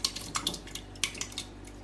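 Canned tomatoes being emptied from a tin into a minestrone soup pot, a quick series of bright metallic clinks and taps from the can and spoon against the pot, fairly close, with no talking.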